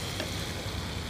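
Steady hiss of ginger garlic paste sizzling in a hot pan with tomatoes, close and continuous with faint stirring underneath.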